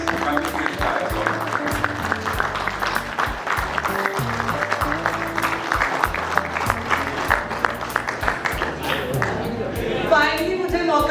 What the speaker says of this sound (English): let's give a warm round of applause to Mrs. Tanushree